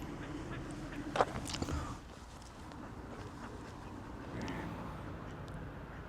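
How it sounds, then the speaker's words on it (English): A few duck quacks close by over a low outdoor rumble, with a distant engine droning in the background. "I could show the ducks."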